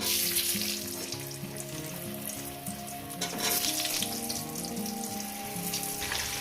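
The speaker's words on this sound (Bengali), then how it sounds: "আমি এখানে আলুগুলো প্রথমে ভেজে নেবো" Potatoes with salt and a pinch of turmeric fry in hot oil, a steady, dense sizzle that holds close and even throughout with no voices.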